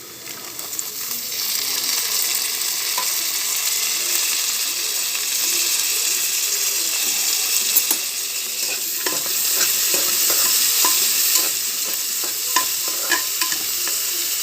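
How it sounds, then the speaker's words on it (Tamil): Carrots and beans fry with softened onions in a pan for a vegetable kurma, a steady close sizzle with intermittent scraping and clicking stir strokes throughout, no voices. "வெங்காயம் நல்லா வணங்கிருச்சு எல்லாம் நம்ம எடுத்து வச்சுருக்கிற கேரட் பீன்ஸ் எல்லாம் போட்டுடலாம்"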